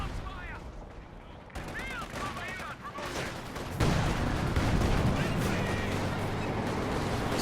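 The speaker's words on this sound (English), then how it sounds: "Good easy SC-76 barrage into the predicted path, but they dodge it" Artillery barrage from an SC-76 in the strategy game Company of Heroes 2: loud battlefield explosions and rattling gunfire that build steadily, with a sharp jump in intensity partway through and a dense rumble continuing to the end.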